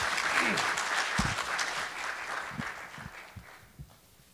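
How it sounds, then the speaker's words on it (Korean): Audience applause at the opening ceremony of a Korean academic conference on household debt, greeting an economics professor as he takes the stage; dense, steady clapping from a large hall that slowly thins out over a few seconds. "큰 박수로 맞이해 주시면 감사하겠습니다"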